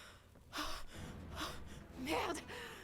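A female character in the video game Forspoken coughing, three breathy, rasping bursts spaced about a second apart over a low game soundscape.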